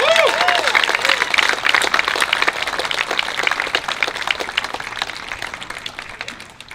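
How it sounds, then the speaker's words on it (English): A large awards-ceremony audience applauds Kansas City Hall of Fame legend George Brett, with dense sustained clapping that carries on for several seconds before slowly fading, and some cheering mixed in. "give a big round of applause for George Brett"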